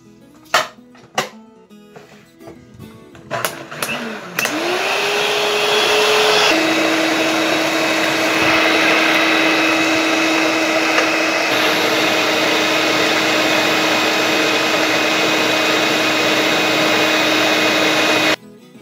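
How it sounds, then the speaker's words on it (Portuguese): Electric mixer beating milk and sugar for a cereal pie: a few clinks and knocks, then the motor starts and runs loud and steady, settling into a constant whirring drone until it stops. "E agora vamos bater."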